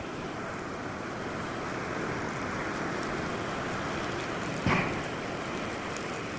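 A steady, dense hiss of rain falling fills the clip, with one brief louder knock partway through.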